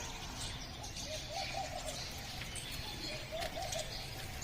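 Soft, distant birdsong in the open air at a Hanuman temple, with scattered chirps over faint background ambience and repeated low cooing from pigeons or doves near the middle and end.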